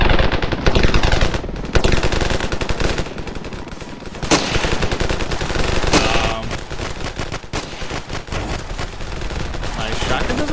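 Dense, sustained automatic gunfire in the Ravenfield video game, loud bursts of rapid shots filling the scene with a few sharper blasts standing out, no talk heard.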